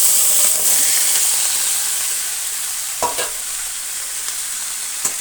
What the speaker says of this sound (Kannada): ಚೆನ್ನಾಗಿ ಕಲಿಸ್ಕೊಳ್ಳೋಣ